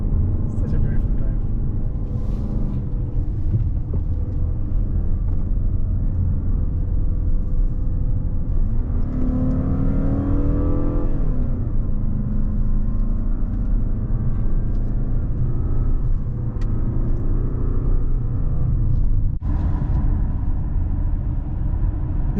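Car driving along the Sonora Pass mountain road in California, with a continuous loud road and engine rumble and a slight rise in pitch midway, under steady talking.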